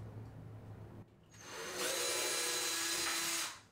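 A power drill bores a pilot hole into a wall while checking for a stud during a curved shower rod installation, a whining motor that starts after a quiet pause, holds steady and loud for about two seconds, then stops.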